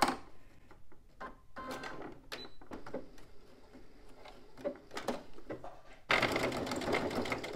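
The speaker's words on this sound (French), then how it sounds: "je vais venir coudre à 1 cm" A sewing machine stitches a fabric pouch with a 1 cm seam, first in short stop-start bursts of quick needle clatter, then a steady sustained run of close, busy stitching.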